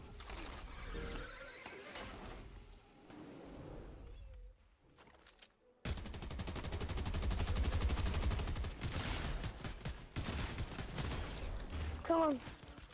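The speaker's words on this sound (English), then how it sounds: "More shots down here." Gunfire in the Fortnite video game crackles in bursts alongside other game sounds, with a loud, dense stretch in the second half and people talking over parts of it.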